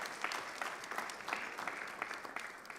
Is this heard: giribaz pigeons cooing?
no